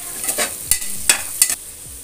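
Onions frying in oil in a pressure cooker for egg biryani, a steady close sizzle broken by a few sharp scraping stirs of a spoon against the metal, no voices.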